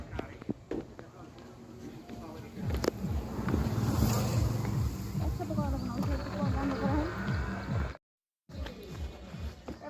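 A boat moves across open water, its low engine-like rumble and water wash mixed with steady wind buffeting the microphone, while people talk over it throughout; a brief dropout cuts the sound near the end.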